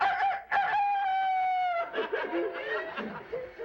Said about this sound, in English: he jumped up on a log and lay in there, flapped his arms, and crowed like a veiny rooster